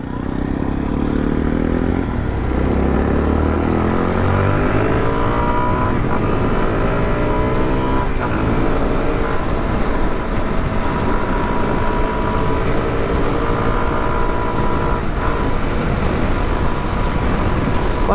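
Suzuki DRZ400S dual-sport motorcycle cruising at highway speed, a steady loud engine drone with harmonic whine and heavy wind rumble, rising briefly as it accelerates, continuous throughout.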